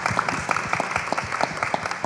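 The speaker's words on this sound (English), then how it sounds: "Give the team a big round of applause." An audience at a health innovation panel event claps for the organising team, crisp individual hand claps merging into steady, moderately close applause with no talk over it.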